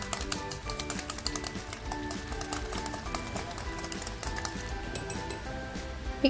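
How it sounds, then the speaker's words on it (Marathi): Yogurt-based marinade for homemade butter chicken whisked in a bowl, a quick steady run of rhythmic tapping and clinking of utensil against the bowl, close and continuous. "छानसा असं आपण फेटून घ्यायचं आहे ते"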